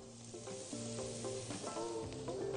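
Onion frying with spices in a pan, a steady close crackling sizzle with brief pops and stirring scrapes throughout, fairly quiet and with no voices.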